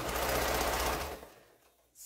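Close sewing machine running steadily along a quilt seam, a dense mechanical hum for most of the moment before it slows and stops.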